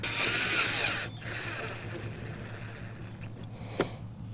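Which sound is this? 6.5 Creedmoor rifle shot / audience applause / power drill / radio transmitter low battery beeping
power drill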